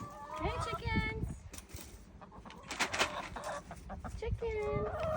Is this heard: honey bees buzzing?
no